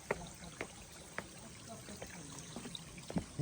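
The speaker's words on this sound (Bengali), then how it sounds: "এই যে দেখা যাচ্ছে লাংলাক ঝর্ণা পড়তেছে" Langlak waterfall in Bandarban rushes steadily as a faint, distant hiss of falling water, broken by scattered sharp splashes and clicks.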